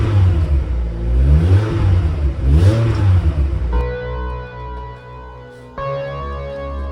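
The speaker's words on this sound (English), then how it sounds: "So by now we all know and like to glaze on the Volvo 5-cylinder engine." A Volvo five-cylinder engine revs loud and close, its throaty exhaust note swelling and falling, then settling into a steadier harmonic drone with a brief dip near the end.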